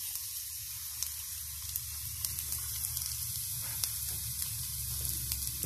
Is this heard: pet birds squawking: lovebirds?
no